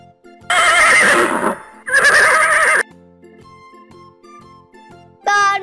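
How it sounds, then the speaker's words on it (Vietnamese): A horse neighs twice in long loud whinnies close by, followed by a quieter passage of soft tinkling tones and then the start of another high call. "Đây là con ngựa."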